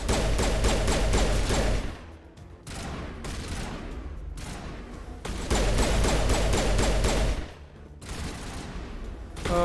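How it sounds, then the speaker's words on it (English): Enemy shotgun fire in Mass Effect Legendary Edition, a dense rapid barrage of loud blasts in two long sustained bursts with brief pauses between, close and overpowering. "Oh god, these guys have shotguns."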